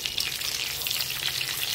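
Tempering spices, dried red chillies and garlic cloves frying in a tablespoon of hot oil in a pan, a steady close crackling sizzle with no voices.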